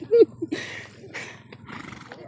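A horse gives a short, fairly close neigh at the start. Several people talk in the background during and after it, and there are faint hoof or shuffling sounds.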